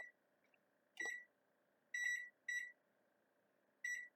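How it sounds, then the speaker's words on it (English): A kitchen timer being set for an oven gives four short, clear electronic beeps at uneven intervals, close and distinct in a quiet room, with one faint knock near the first beep. "So I'm going to set my timer."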